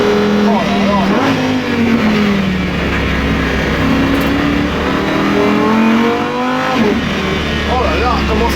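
ABT XGT race car engine pulling hard through its gearbox, a loud, close, steady roar with rising pitch sweeps as it accelerates and shifts, someone talking excitedly over it.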